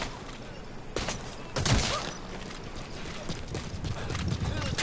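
Enemy gunfire in Metal Gear Solid V: The Phantom Pain, a dense clattering burst of shots with a louder volley midway, set against continuous game noise.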